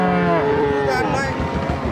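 A dairy cow of a foreign breed moos loudly and close by at a large cattle market in Dinajpur, one long drawn-out low call with a shifting pitch, against faint background noise.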